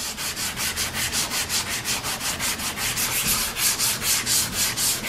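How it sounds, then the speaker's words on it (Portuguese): Body filler being sanded smooth by hand with 150-grit sandpaper, a rhythmic back-and-forth rasp of about four strokes per second, close and steady, with no talking. "Depois que eu apaguei todos esses riscos que a lixa 80 deixou com a lixa 150, agora eu vou terminar de nivelar aqui"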